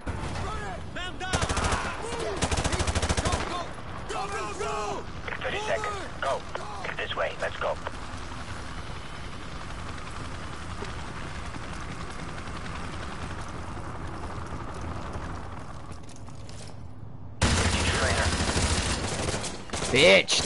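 Gunfire in the Modern Warfare 2 Remastered campaign, loud bursts of shots early on, then a long stretch of steadier combat noise and music, and another loud burst near the end, with a voice talking over parts.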